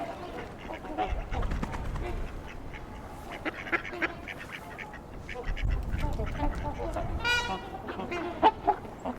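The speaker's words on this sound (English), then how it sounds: "A mix of male and female mallards" Male and female mallard ducks, with at least one American black duck–mallard hybrid, quack among feeders and house sparrows, calls scattered and overlapping at moderate distance over steady outdoor background.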